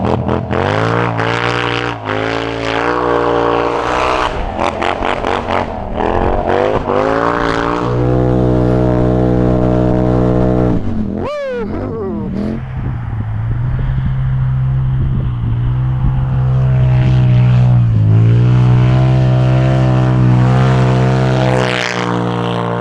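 A Can-Am Scrambler 1000 ATV engine roars loudly up close while riding through a snowy ditch, revving and shifting pitch, briefly dipping, then settling into a steady, heavy drone.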